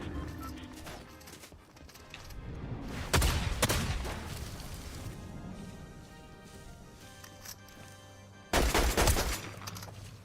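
Bursts of SMG gunfire in Fortnite gameplay, two loud sharp volleys of rapid shots a few seconds apart amid quieter in-game background sound.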